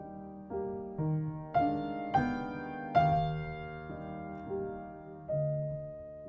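A nocturne phrase on piano swells up through the middle and eases back down, with clear, close notes ringing over soft sustained bass and gentle accents at each rise.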